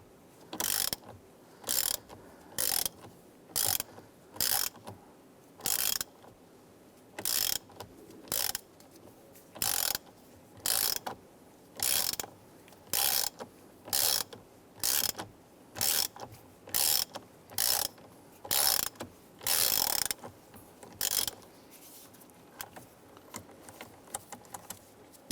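Ratchet wrench loosening a tight bolt on a Chrysler 300 steering column: a long series of quick metallic ratcheting bursts, each about half a second, repeating steadily and close with short pauses between strokes.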